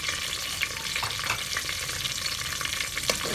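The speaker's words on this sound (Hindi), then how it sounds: "सब्ज़ मिर्च को भी इसके साथ ही डालेंगे ताकि इसके साथ ही फ्राई हो जाए" Chopped onion and green chilies frying in a pan for an arvi gosht curry, a dense continuous sizzle with light stirring scrapes, close and steady, no voices.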